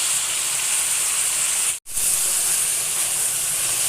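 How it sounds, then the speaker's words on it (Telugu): Onions sizzle steadily in hot oil for a curry of eggplant and dry fish, a loud, continuous close hiss broken by one brief silent gap. "ఆనియన్ ఇలాగే గోల్డెన్ బ్రౌన్ వచ్చేంత వరకు ఫ్రై చేయాలండి"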